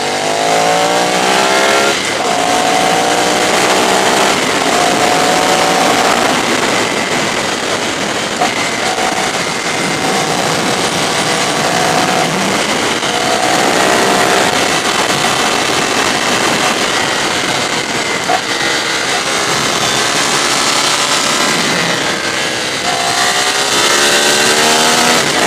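A Ducati 848 Streetfighter motorcycle engine roars loudly and steadily on a fast road ride, its pitch climbing and dropping through repeated gear changes, with heavy wind rush throughout and no voices.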